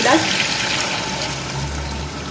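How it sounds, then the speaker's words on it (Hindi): Water is poured into a pot of beef achari masala as it cooks, a steady broadband rush that runs continuously under kitchen background noise. "अब इसमें हम डाल देंगे पानी"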